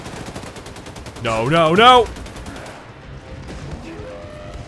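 Rapid automatic gunfire rattles steadily through a Wolfenstein 2: The New Colossus firefight, loud and continuous, while a player shouts briefly in a strained voice.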